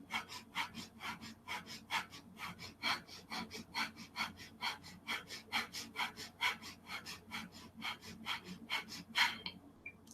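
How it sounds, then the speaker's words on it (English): Rapid, forceful breath of fire breathing in a yoga pose, a long steady series of sharp, evenly spaced puffs through the nose, close and soft, with no speech over it. "breathe breath of fire if you can"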